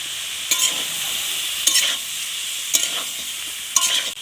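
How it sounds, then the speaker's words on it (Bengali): Shrimp frying in a wok, a loud continuous sizzle broken by four sharp scraping stirs at roughly one-second intervals, close by and with no voices. "এবার চিংড়িটা কড়ার মধ্যে দিয়ে দিচ্ছি।"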